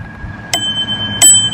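Two bright bicycle bell rings, about half a second apart, each a sharp metallic ding with a lingering ringing tone, heard close over a soft background hum.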